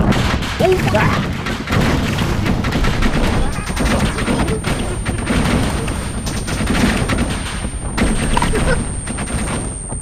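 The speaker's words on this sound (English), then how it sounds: "What are they shooting at? They're shooting at us?" Sustained gunfire from an Arma 3 firefight, with rapid bursts and fusillades rattling continuously across the whole stretch, mixed with thuds and booms, while voices talk over the shooting.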